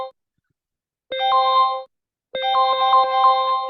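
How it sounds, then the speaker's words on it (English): Phone ringtone set off by a trading equity alert: two bursts of a bright, multi-tone melodic ring, the first short and the second longer, separated by a brief silence and heard alone. "then it will send an alert to your phone lah"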